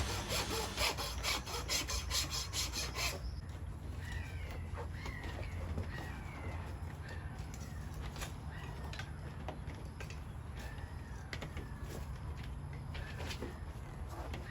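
Nails and a shoe are pulled off a horse's hoof, giving steady rough scraping and rasping that runs throughout at close range. Bird calls chirp repeatedly in the background of the outdoor setting.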